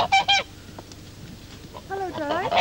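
Geese honking outdoors: two sharp, close honks open, followed by quieter background sounds and a voice speaking toward the end.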